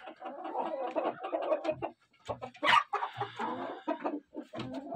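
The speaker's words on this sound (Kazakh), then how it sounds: "Міне әтештер." Roosters in a poultry flock with about fifty hens cluck and call close by, a busy run of clucks with one sharper, louder squawk in the middle.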